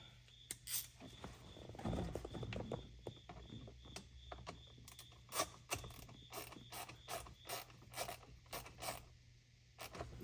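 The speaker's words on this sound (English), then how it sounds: "Let me just tighten it up with the ratchet itself." A ratchet clicks in short runs while the bolts of a carbon fiber steering wheel on a 2014 Subaru WRX/STI are tightened, the metallic ticks close and fairly quiet against a low background hum.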